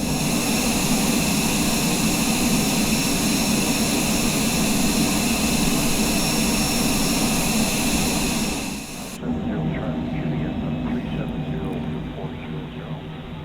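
Twin jet engines of a Cessna Citation Longitude in Microsoft Flight Simulator 2020 roar steadily and loudly through a climb out of Key West, the high whine suddenly dropping away near the end while the low drone carries on.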